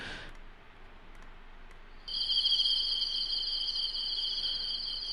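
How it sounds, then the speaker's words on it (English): Crickets chirp in a steady high-pitched trill, starting faint and then swelling louder after a couple of seconds and continuing without pause. "This is what here, all the insects chirping, right?"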